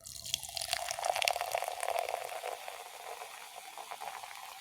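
Grape-flavored sparkling water poured into a small pink cup, a close, faint stream with fizzing and bubbling that builds quickly and then settles into a softer crackle of carbonation, no talking.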